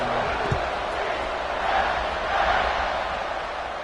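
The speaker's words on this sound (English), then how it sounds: "Do you think this crowd's going to get loud when their defense comes on the field?" A college football stadium crowd roars in a steady, broad wash of cheering and noise throughout, heard from within the stands, with a commentator talking over it.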